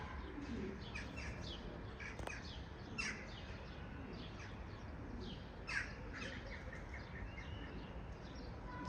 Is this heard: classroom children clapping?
no